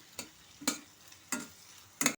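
Chopped onion frying in ghee in a pan, heard as four brief, quiet scraping strokes of stirring spaced about half a second apart over a soft background, with no speech.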